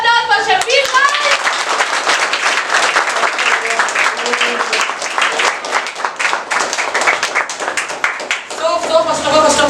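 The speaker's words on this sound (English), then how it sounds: "big round of applause for Shamveer, guys" Applause from a talent-hunt audience greets contestant Shamveer, a dense crowd clapping that fills the whole stretch at steady loudness, with voices mixed in at the start and end.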